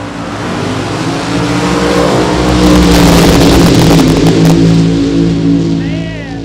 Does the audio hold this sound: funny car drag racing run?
yes